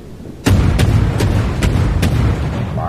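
Naval cannon fire in the World of Warships game: a series of five heavy, sharp booms at irregular intervals over a continuous low rumble of battle ambience.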